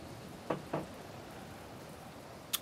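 Rain falls in the Planet Explorers video game, a soft, steady hiss with a couple of brief louder taps near the start and one sharp click at the end.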